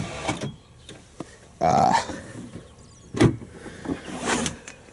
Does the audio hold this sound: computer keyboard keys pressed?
no